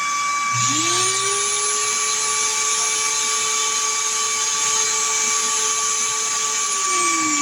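An electric power tool whirs up at about half a second and runs at a steady high pitch, then winds down near the end.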